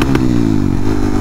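Honda Monkey with a 181 big bore kit revs loud and close through a titanium racing exhaust with a drilled-out baffle, a steady throaty drone with slight clatter, no talk.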